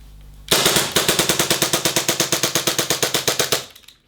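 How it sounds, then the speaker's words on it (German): A Novritsch SSP5 4.3 IPSC Hi Capa gas blowback airsoft pistol fires a fast string of about two dozen sharp, loud, close cracks in an even rhythm until the magazine runs empty. "Ihr seht, das Ding schießt hier ordentlich durch."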